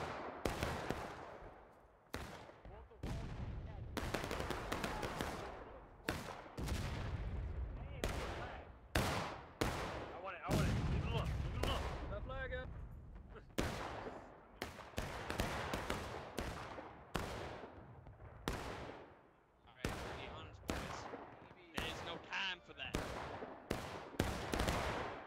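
Musket fire in the American Civil War video game War of Rights on the Piper Farm map: a steady stream of sharp, separate rifle shots and occasional clustered volleys goes on throughout, fairly quiet and at varying distances.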